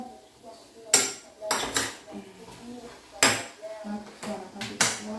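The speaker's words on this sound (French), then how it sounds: "Je vais remuer ça, je vais le faire rapidement." A utensil stirs food in a metal pot, giving a series of sharp scraping clanks and knocks spaced irregularly, close and fairly loud, with faint background sounds between them.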